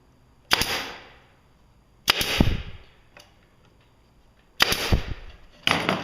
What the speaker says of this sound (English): And we'll put these staples in here.